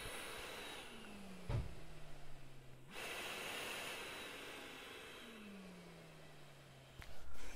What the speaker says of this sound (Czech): abyste slyšeli jeho dýchání a hned pochopíte